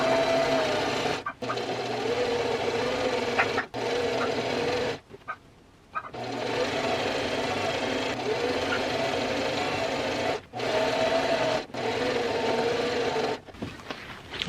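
A sewing machine stitches a French seam in thrifted fabric, running in loud, close bursts of steady whirring separated by short pauses, with no talk.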